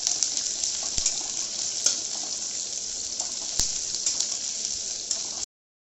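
Onions fry steadily in a pan, a constant bright hiss and crackle with a few sharp pops and light utensil taps, cutting off abruptly near the end.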